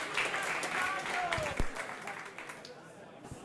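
Audience applause at a candidates forum for the 2023 NSW state election in Manly, a burst of hall clapping that fades and thins out over a few seconds, with a voice speaking over it.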